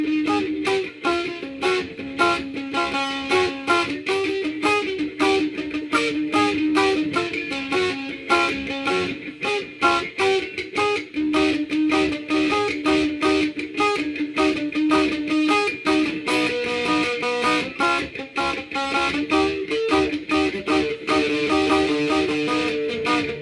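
A distorted, buzzy cigar box guitar with a piezo pickup plays steady strummed riffs continuously throughout, loud and gritty, with no talking.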